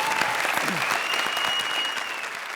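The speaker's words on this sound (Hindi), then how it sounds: "जोरदार तालियां" Loud, sustained applause from a studio audience at a comedy show, steady clapping throughout with a slight fade toward the end.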